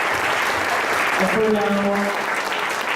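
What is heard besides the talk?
applause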